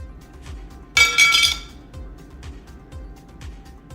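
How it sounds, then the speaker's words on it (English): A sharp metallic clink rings out once as a thin metal Apple Card strikes a hard stone counter, briefly shimmering over a low steady background hum. "what the Apple Card sounds like when dropped on a stone counter"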